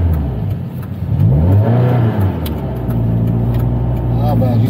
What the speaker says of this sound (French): j'essaie de trouver le filet de gaz avec la petite pédale d'accélérateur